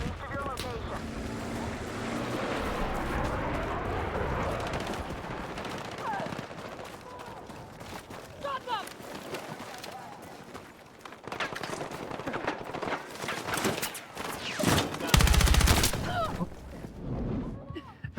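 Video game gunfire crackling in a dense, noisy mix of rapid shots and bursts, with a louder cluster near the end; people talk over it throughout.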